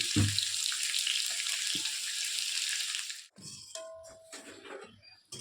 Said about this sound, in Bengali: যা ভাজা ভাজা হতে থাক